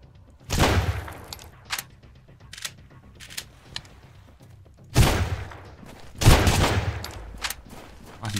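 Gunfire in the survival game Sunkenland, several loud sharp bursts with a short dense volley early, then two heavier blasts later, separated by quieter clicks and thumps.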